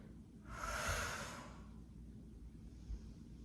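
One long, fairly close exhale during a stretching exercise, a soft breathy rush lasting about a second, followed by quiet room tone.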